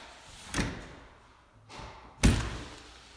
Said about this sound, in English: So you saw that it latched, I pushed, it opened back up.